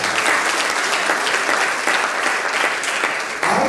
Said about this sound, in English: I think he deserves a round of applause.